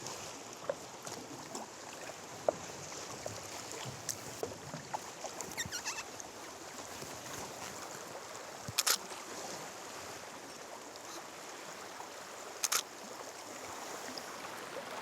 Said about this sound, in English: Peter and his wife Carrie are out paddling on Golden Bay in the early light of dawn